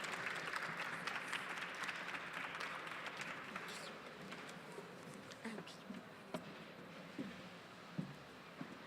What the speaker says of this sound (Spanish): Sandoval Trujillo Astrid, un aplauso por favor